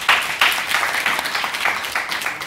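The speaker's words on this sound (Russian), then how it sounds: "Кейв Стонер, аплодисменты ему." Audience applause at a studio talk show, a dense burst of clapping from a crowd lasting a couple of seconds, close and loud with no one speaking over it.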